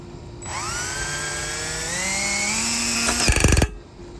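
A power drill bores a pilot hole after center punching, fitting a throttle cable on a Honda engine: a whining motor rises and holds steady for about three seconds, then rattles and stutters as the bit bites before stopping abruptly.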